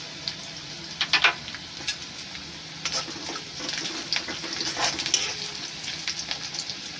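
Curry leaves and asafoetida hit reddish frying onions in a pan, crackling and sputtering in bursts over a steady hiss, close and moderately loud with no speech.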